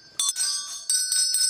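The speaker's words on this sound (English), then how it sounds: "That's like a doorbell, isn't it? Look it over the door, a shop door." Several small antique shop door bells of differing sizes ring in bright, sustained bursts, three or four strikes overlapping and decaying with a clear metallic shimmer, close and fairly loud with no talking.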